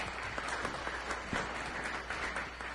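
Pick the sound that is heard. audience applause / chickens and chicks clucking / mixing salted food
audience applause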